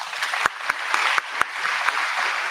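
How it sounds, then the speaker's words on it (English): Audience applause at an innovation network event, a room of people clapping steadily on request, moderately loud with a few sharp individual claps standing out. "So maybe you can give me some applause for the moment."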